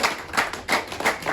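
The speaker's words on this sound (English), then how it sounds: "can we just clap it up for Aric" A small group clapping for Aric in a brief round of applause, a few loud, uneven bursts of handclaps close by.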